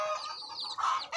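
A black hen clucks close by, a quick run of bright, throaty calls in a farmyard setting, with no talking over it.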